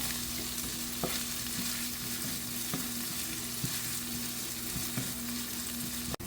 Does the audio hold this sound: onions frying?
yes